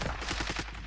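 Rapid AN94 rifle fire in the Warzone video game, a burst of fast repeated shots, loud and dense, lasting under a second.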